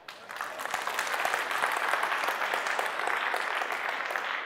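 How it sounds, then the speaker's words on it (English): A conference audience claps in favor of an award, steady sustained applause from a room full of people filling the whole stretch. "Please raise your hands or clap."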